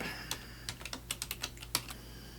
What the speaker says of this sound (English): Let me get my keyboard so I can type.